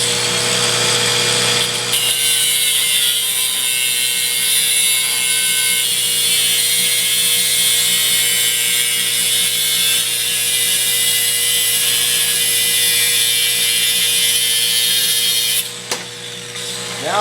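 A power tool cuts off a bolt with a loud, steady high-pitched grinding whine that holds for about fourteen seconds, then stops abruptly near the end.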